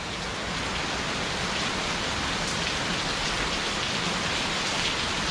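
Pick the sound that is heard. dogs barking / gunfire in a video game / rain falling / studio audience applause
rain falling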